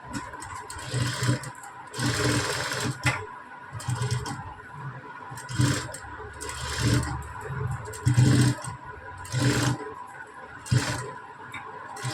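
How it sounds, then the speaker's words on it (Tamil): A sewing machine stitches blouse fabric for a leaf-pattern sleeve, its motor whirring in about eight short, loud bursts separated by brief pauses. "இதை வந்து மெயின் கிளாத்தில் இந்த மாதிரி வச்சு தையல் போட்டுக்கலாம் சுற்றிலும்"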